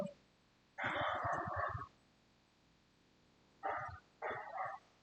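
Neighborhood dogs bark in three separate bursts, a longer volley followed by two shorter ones, fairly quiet and somewhat distant, with no one talking.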